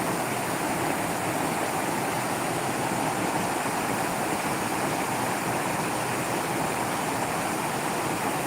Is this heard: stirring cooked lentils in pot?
no